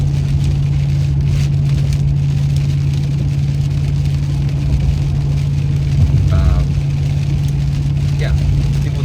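Inside a moving car, a steady low engine hum and road drone persist throughout, with faint voice-like sounds mixed underneath.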